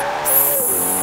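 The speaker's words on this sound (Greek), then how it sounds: "Τώρα θα με απολαύσετε σε λίγο να κάνω drift." Car drifting with tire squeal in Forza Horizon 4, a pink Ferrari sliding: a loud, steady engine drone with a sustained high squeal running over it for the whole second, close and continuous.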